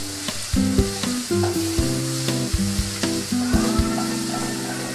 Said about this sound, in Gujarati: તેને ચમચાની મદદથી હલાવીશું, પ્રોપર મિક્સ થઈ રહે।